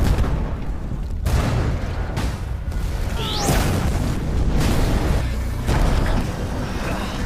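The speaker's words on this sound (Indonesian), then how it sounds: "membuat tangki yang berisi bahan kimia satu persatu meledak" Chemical storage tanks bursting one after another after an earthquake, heard as continuous heavy booming and rumbling with dense low roar, a sharp rising whistle or crackle near the middle, and no speech.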